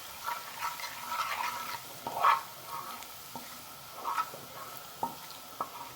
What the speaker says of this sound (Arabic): نقلب التومه كده لغايه ما تصفر مع الكزبره